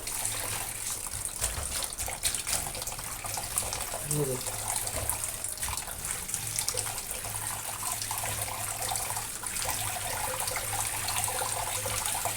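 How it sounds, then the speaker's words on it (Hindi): Okra is rinsed in an open bowl of water, with sloshing and running water continuing steadily close by while someone talks over it. "जब तक आप इसमें किसी खुले बर्तन में भिंडियों को नहीं धोएंगे तो ये साफ़ ही नहीं होती"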